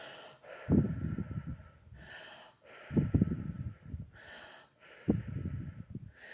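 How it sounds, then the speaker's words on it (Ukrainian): Three slow, deep breaths, each a long audible exhale followed by a pause, close and fairly soft. "Зробіть кілька глибоких видихів."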